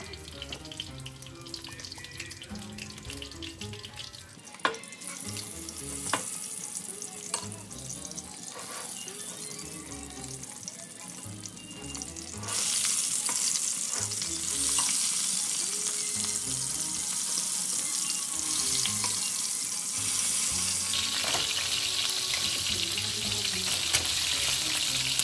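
Eggplant frying in hot salted oil in a home kitchen, a steady hiss and sizzle that runs throughout, growing louder and brighter partway through, with faint clinks of utensils.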